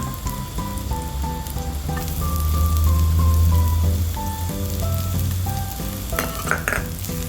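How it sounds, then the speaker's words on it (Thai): Chopped garlic stir-fries in a pan with shiitake mushrooms and ginger, a steady loud sizzle and crackle that swells midway, with soft musical tones running underneath and a few clinks near the end. "กระเทียมสับลงไปผัด รวมกันกับเห็ดหอมกับขิงก่อนค่ะ"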